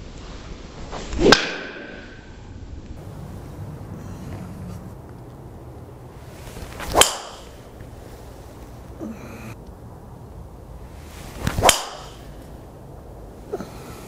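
Callaway Epic Flash Sub Zero driver striking a golf ball outdoors, three sharp, loud impacts spaced several seconds apart, each with a quick fading ring over faint background ambience.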